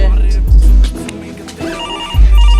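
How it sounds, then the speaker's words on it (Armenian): A telephone rings with a repeating electronic tone, loud and close, while people talk over it. "Հեռախոսն ա զանգում, ոնց չես լսում։"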